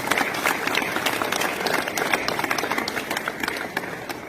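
Loud, continuous applause for students honored at a school event after an inter-university boxing championship, dense crowd clapping sustained evenly throughout with no pause.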